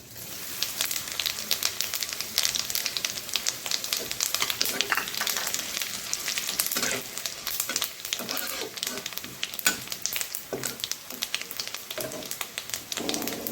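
Cumin, nuts and raisins frying in hot oil in a pan, a dense crackling sizzle with irregular pops and spits over about fourteen seconds, close and fairly loud, without talk.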